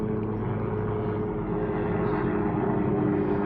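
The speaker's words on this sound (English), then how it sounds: "Sorry about the plane." A propeller airplane drones overhead in a late-February garden, a steady low engine hum with a constant tone, loud and unbroken throughout, with no voices.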